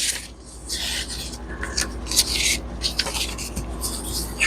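A folded paper book page is burnished flat with a tool, making repeated dry rasping rubs in short bursts, close and fairly quiet.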